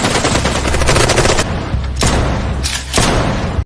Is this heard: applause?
no